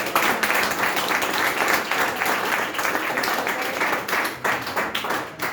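Steady applause from a crowd, dense clapping that holds at a constant level throughout.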